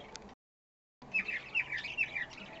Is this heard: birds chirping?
yes